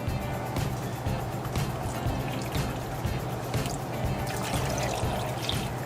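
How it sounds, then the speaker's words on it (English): Water poured steadily into a stew pot, a continuous close trickle and splash running through the whole clip over a low background hum, with no talking. "I'm just gonna add some water"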